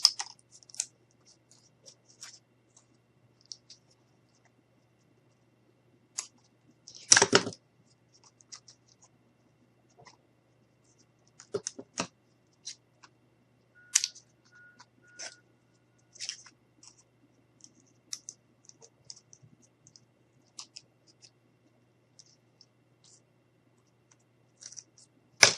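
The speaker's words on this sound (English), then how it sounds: "trying to cut a little bit off of here without splitting my wood too bad" Wooden craft sticks for a miniature gazebo are cut by hand, giving sparse, faint snips and clicks scattered across a quiet room, with one sharper crunch near the middle and no talking.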